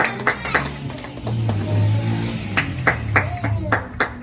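Rhythmic congregational clapping at a church service comes in sharp, evenly spaced claps, with a low droning hum and voices in the middle, and the clapping picks up again toward the end.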